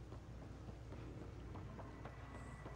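Steady rain in a jungle setting in Mass Effect: Andromeda, a dense, even hiss with scattered droplet ticks and a low rumble, constant throughout and fairly faint.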